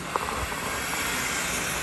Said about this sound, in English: That's because of that nice warm steam